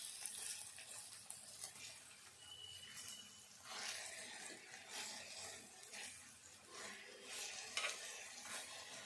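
Stirring in a pan as salt is mixed into a tomato curry for a meal maker egg curry, with steady scraping and gentle sizzling throughout, close up and with no talking.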